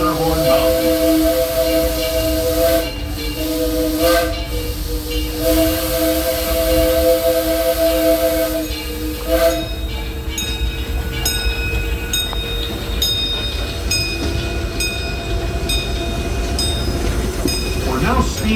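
The Disneyland Railroad's steam locomotive Ernest S. Marsh rolls along on a night run, a steady rumbling clatter of wheels and hiss of steam, with long steam-whistle tones sounding several times early on and brief voices.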